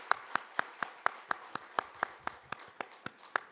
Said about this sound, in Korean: 우리 뜨거운 박수 보내주시기를 바라겠습니다